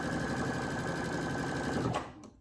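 A Brother Essence VM5200 sewing machine stitches at a steady fast pace, a close continuous mechanical whir that cuts off near the end, followed by a faint click.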